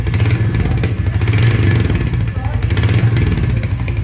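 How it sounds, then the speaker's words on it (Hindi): A 2023 Royal Enfield Hunter 350 motorcycle sits in neutral and its exhaust is revved, giving a loud, close, continuous throaty thrum with some mechanical clatter and no breaks. "So this is the exhaust note on the Hunter 350."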